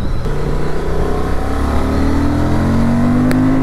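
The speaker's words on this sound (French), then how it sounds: "Je fais rapidement une accélération" Honda 750 Transalp motorcycle engine accelerating hard, loud and close, its rising drone climbing steadily in pitch over a few seconds with no talk.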